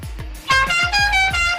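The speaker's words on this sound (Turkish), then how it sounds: "Deniz abi kornaya bas" A vehicle horn blares in the video game Dead Rails in a series of short honks, loud and close, following a few low thumps.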